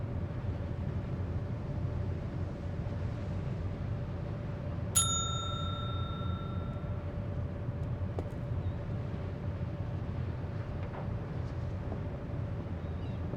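A single bell strikes once in Secret Files 2 and rings out with a clear, lingering tone over a steady low background hum, with no voices.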